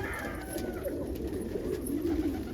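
Pigeons coo softly nearby in a snowy yard, their low, repeated rolling calls carrying over a steady background hiss.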